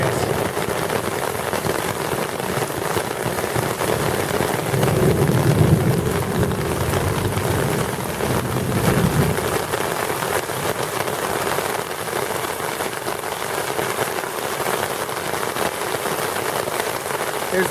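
Heavy rain shower pouring in Cuernavaca, Mexico, a dense, constant hiss of drops drumming on surfaces, loud and close throughout, with a faint low rumble of a small car's engine idling nearby.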